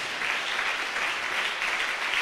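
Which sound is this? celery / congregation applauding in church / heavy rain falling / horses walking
congregation applauding in church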